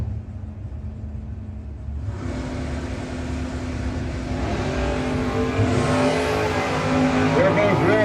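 Drag race cars at a no-box 660 drag racing shootout, including a 1975 Monza Coupe street car and a 1963 Corvette Roadster: a low engine rumble that swells into loud revving and launching, with a crowd or voices faintly underneath.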